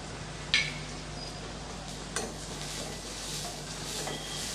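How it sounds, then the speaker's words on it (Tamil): Onions with curry leaves sautéing in a pan give a steady, soft sizzle close by, with two sharp clinks of a utensil against the pan standing out over the hiss. "இப்போ வெங்காயம் வதங்கிட்டு இருக்கட்டும்"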